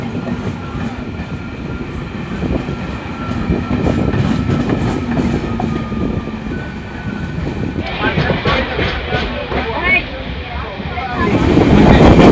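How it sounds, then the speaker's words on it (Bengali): The Howrah-Digha Tamralipta Express rumbles along the rails from inside a carriage, a dense rolling roar with rhythmic rattles and clacks that swells louder toward the end as the train gathers speed. "অবশেষে ট্রেন স্পিড নিল এবার।"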